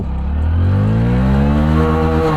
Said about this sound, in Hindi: बाइक को लॉन्च करते हैं,